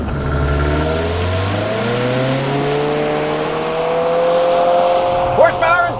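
A 2023 Subaru WRX SPT with a CVT and 2.4-liter turbo four-cylinder boxer engine is held at high revs before a launch, a loud steady drone with rising tones, ending in a sharp burst as the car pulls away, with a voice speaking over it.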